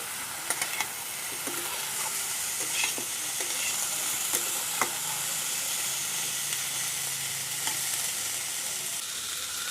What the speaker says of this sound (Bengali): এবার আমি একসাথে ভেজে নেব।